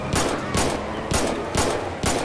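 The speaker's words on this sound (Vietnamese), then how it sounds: "Em bắn mấy anh luôn nè." Gunfire in the game GTA 5, a rapid series of loud shots in an even rhythm, about two per second, close and dominant.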